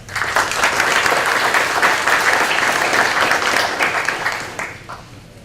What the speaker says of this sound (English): So a big round of applause for tonight's sponsor.